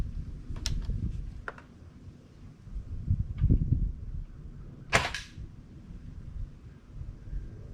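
An LCT LC-3 AR-style airsoft electric gun fires in semi-auto, giving a few scattered sharp clicks and snaps with a louder crack near the end over low handling thumps, at a fairly quiet level.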